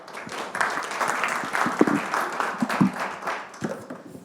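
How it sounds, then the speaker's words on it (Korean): An audience at a National Assembly forum on government innovation and blockchain in Korea applauds after a lecture. The clapping is dense and sustained, filling the room for several seconds with a few louder claps standing out. "다시 한번 박수 부탁드립니다"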